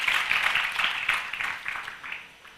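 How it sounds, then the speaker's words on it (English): Audience at an HR conclave breaking into a burst of applause, dense hand clapping that starts strong and gradually thins and fades over a few seconds. "Come on, partners, if you want to clap, you can do it wholeheartedly"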